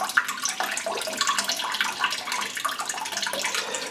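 Water draining slowly from a cheese pot while cheddar is made with a sous vide bath, a steady splashing, gurgling flow that runs unbroken and close without any talk.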